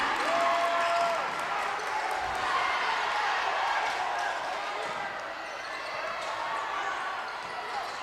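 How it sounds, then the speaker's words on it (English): Spectators at a boys high school basketball game, Wilkes-Barre vs West Scranton, roar and cheer loudly in a packed gym, with the noise swelling and slowly easing over several seconds and a faint commentator's voice beneath it. "Listen to this crowd."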